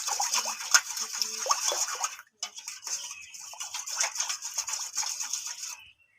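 Quick, rhythmic scraping and whisking of a spoon in a bowl as strained sour yogurt is mixed with milk and cardamom, close and soft, with a brief pause midway before the stirring resumes.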